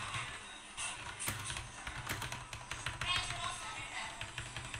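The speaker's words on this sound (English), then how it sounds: "I'm going to type something on the keyboard" Rapid clicky keystrokes on a computer keyboard run throughout, fairly close, with a steady background hum.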